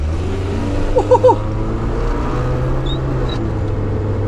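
A VW Beetle with a modern replacement engine hums steadily at idle with a low drone, a few brief tonal chirps rising over it; no strong revving surge stands out.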